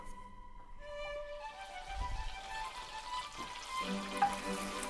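Butter sizzles in a hot pan, a soft crackling hiss that swells slightly toward the end, with faint steady tones in the background.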